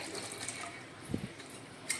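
Faint, brief trickle of water being poured into a pot of spinach gargata, soft and close against quiet room background.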